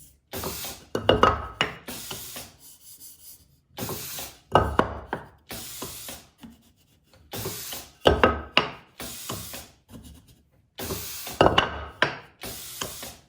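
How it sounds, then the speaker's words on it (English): Bursts of abrasive sanding strokes on a wooden workpiece clamped in a workbench, a few seconds each, separated by short pauses and clunks of repositioning; close and fairly loud. "clamped in there, sand away, flip, clamp, sand"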